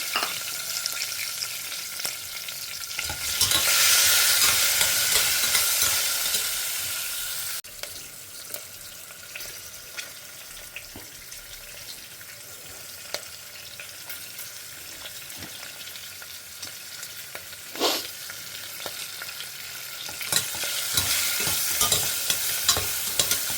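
Bajji chillies fry in a pan and are stirred. A continuous close sizzle runs under scraping stir strokes and occasional clinks, loudest early on and then settling into a quieter crackle, with no talking.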